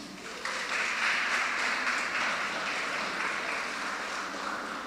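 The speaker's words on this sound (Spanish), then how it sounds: "le puedes dar un aplauso a Dios" An audience at a church-style talk session breaks into sustained applause, a dense wash of clapping that rises quickly and holds steady for several seconds before easing slightly.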